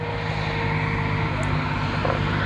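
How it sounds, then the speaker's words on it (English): The Rolls-Royce 650-horsepower V12 engine of a 56-ton Centurion tank drones loud and steady with a deep, constant rumble, while a voice talks over it. "it's a Rolls-Royce engine, it produces about 650 horsepower. It's enough to push the 56 tons of tank"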